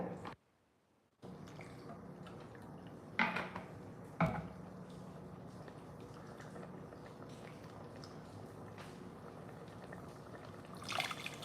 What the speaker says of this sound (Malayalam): കുറച്ചായിട്ട് ആ പുളിയിൽ വെള്ളം ഒഴിച്ചിട്ട്